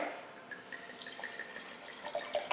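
Wine pours into a glass, a quiet liquid trickle with faint splashes and ringing glass notes heard up close.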